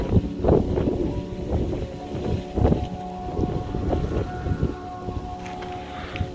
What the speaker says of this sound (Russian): Ветер, зараза.